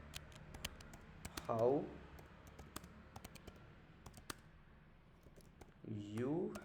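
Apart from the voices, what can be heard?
typing code on a computer keyboard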